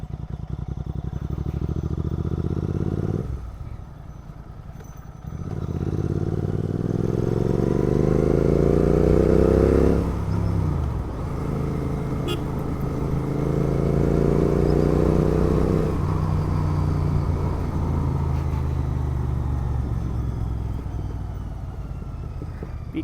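A Royal Enfield GT 650 motorcycle ridden at night, its engine loud and close as it revs up through gears with rising pitch, a brief drop in power between shifts, and a steady rumble.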